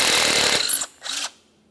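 Power tool spinning off a 10mm bolt on the AC condenser line of a 2011-2020 Toyota Sienna, a loud close whir that cuts off, then a brief second burst of whirring.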